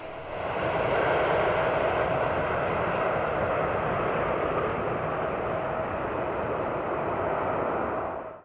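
An aircraft passes over quiet countryside, producing a steady, broad roar that swells in, holds for about eight seconds, and fades out at the end, with no voices.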